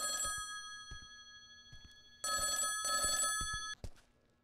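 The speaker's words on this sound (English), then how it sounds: "Phone gonna ring again?" An old-style telephone bell rings in The Backrooms: Survival, two loud bursts of bright trilling that cut off abruptly, with soft footstep-like knocks around them.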